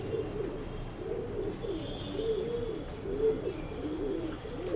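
A male Cheeni pigeon in a pet shop in Bangalore gives rolling, repeated coos close by, a continuous low warbling over soft shop background noise, with no talking.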